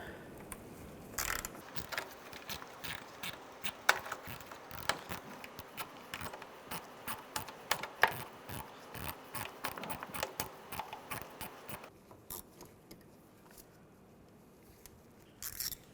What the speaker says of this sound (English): Just use a 10mm socket.